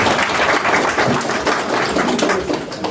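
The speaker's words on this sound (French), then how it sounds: "On peut déjà l'applaudir et on passe au deuxième." Applause from an audience at a public talk, a dense steady patter of clapping that fills the moment without a break, with no voices over it.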